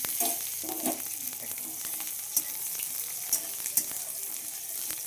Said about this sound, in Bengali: ভালোভাবে কষিয়ে ভেজে নেবো